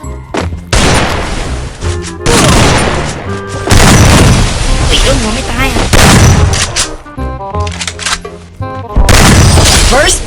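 A powerful gun firing in the shooter game Free Fire, loud booming shots in bursts with crashing impacts, close and dense, mixed with game sounds and someone talking over parts of it.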